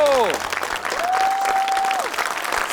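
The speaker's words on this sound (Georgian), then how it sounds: "უფრო მეტი აპლოდისმენტი გვინდა ახლა" Enthusiastic audience applause following a singing performance on a Georgian stage, dense and steady clapping throughout with a few whistles and crowd voices mixed in.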